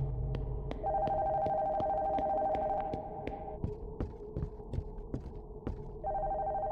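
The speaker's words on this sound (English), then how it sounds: "The phone from upstairs is ringing." A phone rings from upstairs in a horror video game, a steady electronic ring tone that repeats in long bursts, set against low throbbing ambience and regular dull thumps, no speech.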